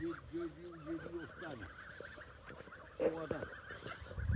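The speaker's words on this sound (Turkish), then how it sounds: "dede ne güzel kazların var dede" Young geese on a farm honk in short repeated calls, fairly faint, with a louder cluster near the end, while people talk softly in the background.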